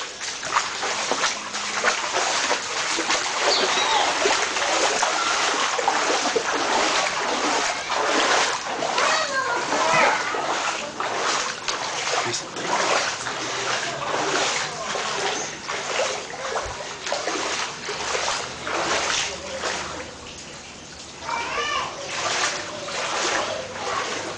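Flood water from the overflowing Rio Doce splashes through a residential street in Governador Valadares, a constant loud churning wash with voices talking over it.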